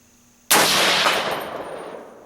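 A DPMS REPR 7.62x51mm designated marksman rifle fires one loud, sharp shot at a target, followed by a long decaying echo.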